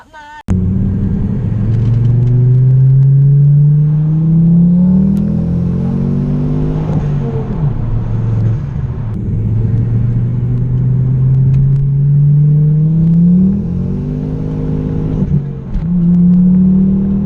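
A Ford Focus ST225 engine accelerating under turbo boost, a loud steady droning rumble that climbs and falls in pitch through several long pulls, heard from inside the car.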